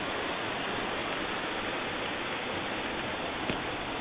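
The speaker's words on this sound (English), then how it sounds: "listen to the brook or the creek" A brook flowing past a bush campsite where platypus are sometimes seen, a steady, dense rushing wash of water, close and even throughout with no voices.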